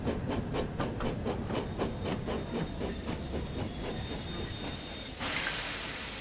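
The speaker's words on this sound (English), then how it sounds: "Now, let's apply some brakes." Close-up, a steam tank engine chuffs in steady, slowing beats as it brakes. A sudden loud, sustained hiss of the brakes follows near the end.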